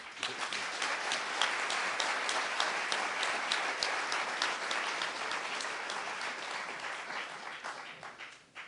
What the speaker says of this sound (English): please join me in giving one more round of applause for Rick Wolff